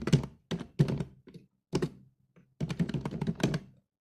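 Bursts of typing on a computer keyboard, close and clattery, in quick clustered keystrokes separated by brief pauses.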